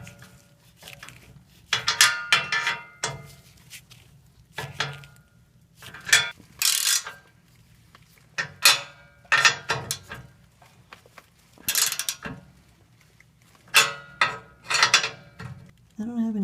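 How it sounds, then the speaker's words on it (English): A ratchet wrench tightens the exhaust flange bolts on a Toyota Matrix with a 1ZZFE engine, giving repeated bursts of quick metallic clicking separated by short pauses, fairly close and moderately loud. "go back and forth with the wrench until I have it tacked down real nice"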